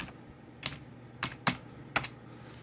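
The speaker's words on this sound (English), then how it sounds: "So I'll type my password in here." A password being typed on a computer keyboard at a home desk: four separate key clicks spaced about half a second apart, close and fairly quiet over a low steady hum.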